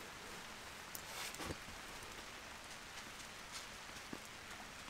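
Steady rain patters on an MSR Hubba Hubba NX 2 tent while camping, a dense, even hiss with a few louder drops landing close by.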